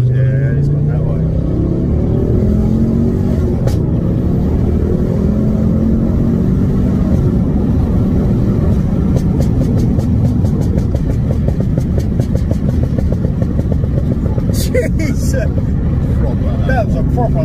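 A Mk2 Ford Focus ST engine drones loudly from inside the cabin, rising in pitch as it accelerates, then settles into a rough, rumbling exhaust burble with crackles.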